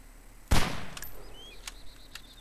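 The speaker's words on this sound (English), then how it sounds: "Alright, firing." A single sharp rifle shot from long range in the video game DayZ, one loud crack with a decaying tail, followed by a few faint clicks and small distant sounds.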